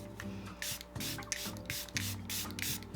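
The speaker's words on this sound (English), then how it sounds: "Now I'm just gonna set my face with setting spray." A close spray bottle of makeup setting spray fires in short, repeated bursts of hissing mist, about six quick pumps in a rhythmic sequence.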